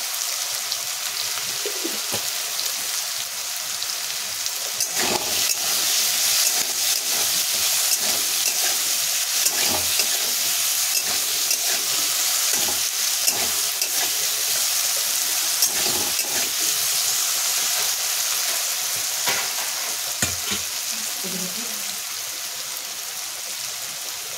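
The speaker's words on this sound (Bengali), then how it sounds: "আলু ভেজে দিব" Potatoes fry in a pan with salt and turmeric, giving a continuous close sizzle broken by regular clinks and scrapes of stirring, with no speech.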